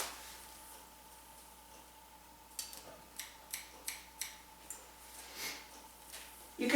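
Scissors snip in a series of crisp, quiet, close cuts as they point cut into hair during a chunky bob haircut, about seven clicks in a loose rhythm over a faint background hum.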